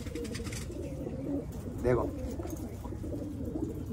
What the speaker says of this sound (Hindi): बहुत अच्छा उड़ता लड़ता हुआ कबूतर है माशाल्लाह